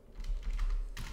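Brief computer keyboard typing, a short burst of key presses for a search shortcut, close and fairly quiet with a steady low hum underneath.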